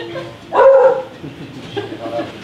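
A dog gives one loud, close bark or yelp in a room, with people murmuring faintly around it.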